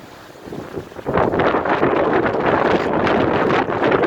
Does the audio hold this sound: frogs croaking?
no